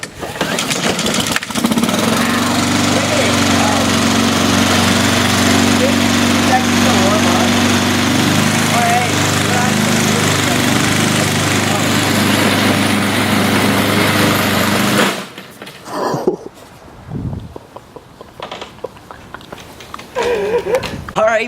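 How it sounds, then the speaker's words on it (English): A Honda lawnmower roars loudly and steadily at close range for about fifteen seconds while running over Yeezy Boost sneakers, then cuts out, leaving scattered handling noises and voices. "shout out to Honda with this beautiful lawnmower. Starts in one pull"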